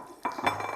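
A utensil clinks and scrapes against a pan as chicken korma is dished out, a short close metallic knock followed by light scraping.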